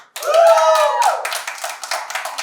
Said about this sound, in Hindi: इस बात को इधर ताली मारो